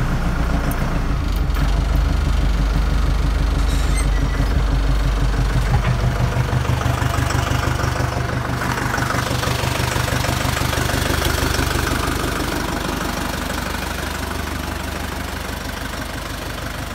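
A DTZ 5504K tractor's diesel engine starts at about minus ten degrees and settles into a loud, rough, knocking idle close by, its rumble easing gradually toward the end.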